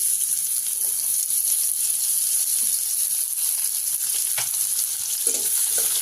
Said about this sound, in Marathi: त्याच कढईमध्ये आपण ते टाकून घेऊया आणि त्याच्यामध्ये आपण कांदा चांगला परतून घेऊया